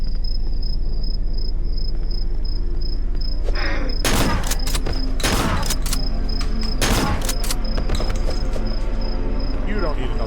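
Shotgun blasts in the video game Cry of Fear boom in three or four loud bursts over a constant droning game ambience with a steady high insect-like tone.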